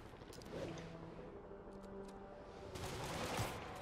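Bursts of gunfire in a Spider-Man video game, a clustered volley early on and another louder flurry near the end, set against a steady background of game ambience.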